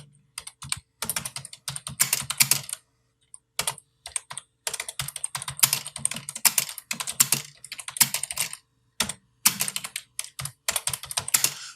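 Computer keyboard typing while composing text in InPage page-layout software: rapid, crisp key clicks in bursts with brief pauses between, close and alone.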